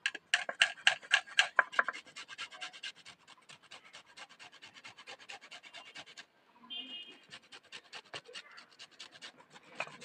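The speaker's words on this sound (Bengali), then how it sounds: "একটুখানি জাস্ট সবুজ অংশটা ঘষে নেব" The green rind of a small gondhoraj lemon is rubbed against a grater in quick rhythmic rasping strokes, loud and close. A short pause comes in the middle, then the scraping resumes at a steadier pace.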